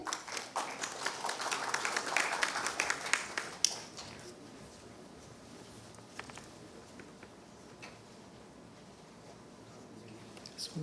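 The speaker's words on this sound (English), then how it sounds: "A big round of applause for him." Audience applause at the Maharashtra CSR Summit 2022 in India, a burst of clapping for a speaker that peaks over the first few seconds, then thins into scattered claps and room murmur.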